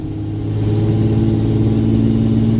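Second-generation Cummins diesel truck engine revving under throttle in third gear lock, a loud, steady low rumble that swells slightly after the first half second and holds strong and close throughout, with no talk.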